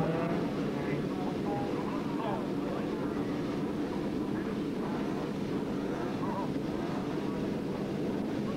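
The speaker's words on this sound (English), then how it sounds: "They're sitting on the bikes with the engines running, the clutch held out with the left hand" Racing motorcycle engines idling together on the grid before a clutch start at Thruxton in 1988, a steady, dense mechanical drone that holds at an even level throughout, with an announcer speaking over it.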